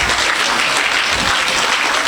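An audience at a vocal studio gathering breaks into steady, dense clapping that fills the room at an even level, with no clear talking.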